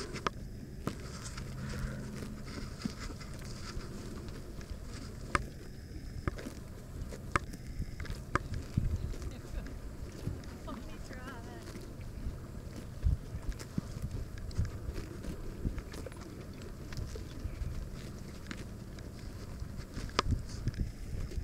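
Horse hooves beat out a soft, steady clip-clop as the animal trots and then canters in circles, the footfalls fairly distant and muffled against light background noise.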